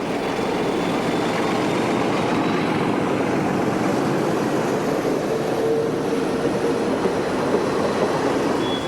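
A locomotive-hauled passenger train runs along a Portuguese railway line with a loud, steady, broadband rumble and roar that fills the whole stretch. A faint whine rises briefly near the middle. No one talks.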